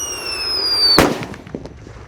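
A Wesleyan Thunder firecracker, a small paper-wrapped banger lit inside a hole in the ground, gives a hissing fuse whistle and then one sharp, loud, close bang that fades into a short muffled rumble.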